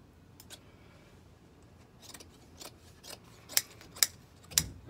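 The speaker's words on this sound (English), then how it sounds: "I'm going to cut straight to the middle of it" A blade cuts carpet being fitted into a cargo van, a series of sharp clicking, snipping strokes that grow louder and more frequent toward the end, close and alone.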